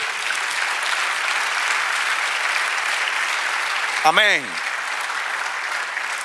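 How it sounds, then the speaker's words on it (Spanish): Church congregation applauding, a broad sustained wash of clapping throughout, with a single voice briefly speaking over it partway through. "Dale un aplauso al Señor."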